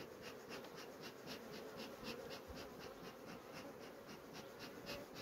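Honeybees buzz steadily around an open hive while a beekeeper feeds them a sugar-free protein patty, a dense, even hum at close range with no talk.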